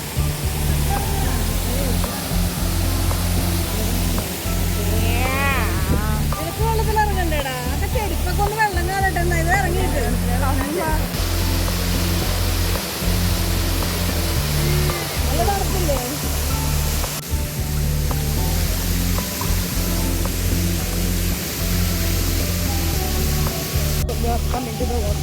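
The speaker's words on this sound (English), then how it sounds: "The water flow right now seems relatively lesser. I mean, it's still a pretty good waterfall," A waterfall at a forest resort in Ambanoli, with relatively low water flow, roars in a steady, loud, unbroken wash of white noise while a person talks over it.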